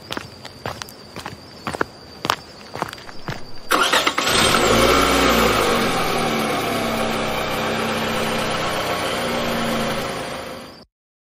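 Several footsteps tap in sequence, then a car engine cranks and catches, settling into a steady idle that runs for several seconds before cutting off abruptly.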